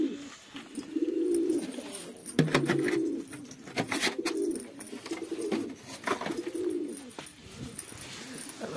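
Pet pigeons cooing outdoors in falling snow, repeated soft rolling coos in a steady rhythm close by, with occasional wing flaps and light chirps.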